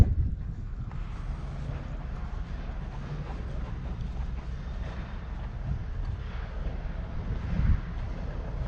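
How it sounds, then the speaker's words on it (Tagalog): Wind on a high spot outside a city hall buffets the microphone, a steady low rumbling roar with gusts swelling near the end, no voices. "mahangin dito sa taas"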